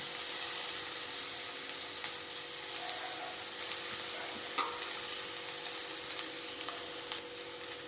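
Chopped banana flower frying in hot oil with mustard seeds and dried red chillies: a loud, steady hiss of sizzling that holds throughout, with faint scattered clicks and crackles.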